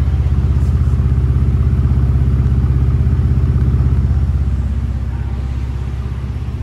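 Ford Ranger Raptor 3.0L V6 twin-turbo, a 2025 next-gen 4x4 with a 10-speed automatic, idling through its exhaust. A steady deep, throbbing rumble holds close and loud, easing slightly in level near the end, with no talk.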